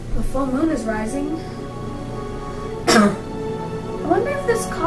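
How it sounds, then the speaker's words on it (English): A man gives a single sharp, close cough in the middle of his speech, with talking before and after it. "I wonder if this cough has anything to do with that."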